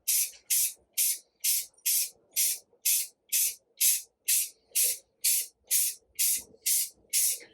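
A rattle can of spray paint fires a quick series of about fifteen short, loud hissing bursts in a steady rhythm, each spray clearly separated by a brief pause, with no talking.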